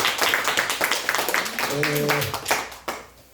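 A church congregation at a New Year's Eve service claps together in a brisk, rapid rhythm, close and fairly loud, while a voice briefly sings or calls out over the clapping near the end.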